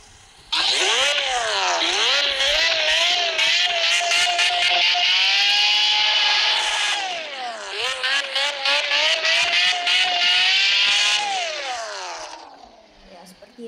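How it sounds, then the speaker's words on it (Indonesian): A car engine in the video game RevHeadz revs hard twice, each time climbing to a loud, sustained wail and then dropping briefly before rising again, heard alone with no talk. "Kita coba tes geber-geber dulu ya pertama-tama."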